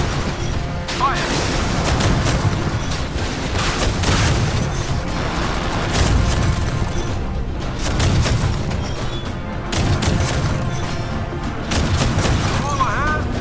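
Naval gunfire in a modern warship combat video game, a dense, continuous barrage of booms and crashing blasts that stays loud throughout under game effects and a busy mix.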